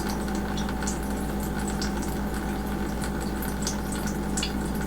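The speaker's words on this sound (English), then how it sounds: "Can hear the water running" Water runs steadily through a colander into a bucket while California buckeye nuts are leached, making a continuous, even rushing and splashing with no breaks.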